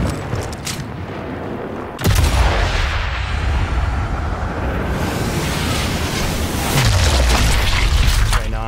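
Panzerfaust anti-tank launcher in the World War II game Sniper Elite 5: a sudden heavy boom about two seconds in, followed by a long rumbling roar and a later swell of low blast energy, with background battle noise.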